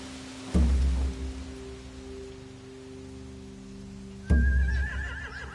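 Horses whinnying in The Walking Dead video game: two loud neighs about four seconds apart over a low ambient drone, with a whistling tone after the second.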